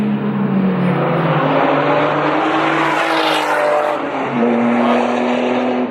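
A race car roars loudly past up close, its high engine whine holding steady and then dipping in pitch as it goes by.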